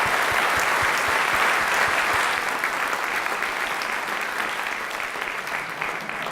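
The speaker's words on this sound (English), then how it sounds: "big round of applause for Waldo" Audience giving a round of applause for a conference speaker, dense steady clapping from many hands that fills the room and tapers only slightly over several seconds, with no one talking.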